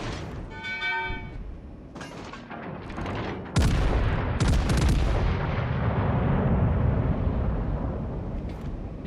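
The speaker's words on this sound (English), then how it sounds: "These guns sound so cool." Naval 14-inch guns fire in World of Warships: Legends, a heavy booming blast followed by long rumbling echoes, with shorter thuds before it.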